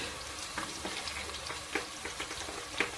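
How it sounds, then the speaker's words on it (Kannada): Onions frying in a pan for vegetable kurma, a soft continuous sizzle with scattered light pops and occasional scrapes of stirring, fairly quiet and without talk. "ಈರುಳ್ಳಿ ಹಾಕಿದ್ದೀನಿ. ಇದು ಚೆನ್ನಾಗಿ ಫ್ರೈ ಆಗಲಿ."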